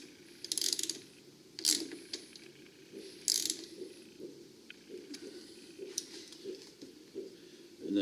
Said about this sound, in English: got to find the right wrench to tighten that up